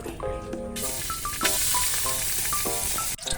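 Native chicken frying in hot oil in a pan, a loud, steady sizzle with crackles throughout, close up, with clinks of a utensil and no one talking.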